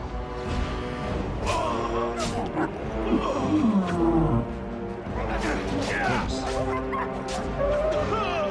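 Several dogs snarl, bark and growl in a fierce attack within Dragon Age: Origins, layered with combat noise and a continuous game soundtrack, with a voice talking over parts of the fight.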